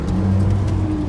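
Steady, loud engine roar from a Lamborghini or Ferrari supercar pulling away from a standstill, heard close from inside the car with a continuous low drone and no pauses.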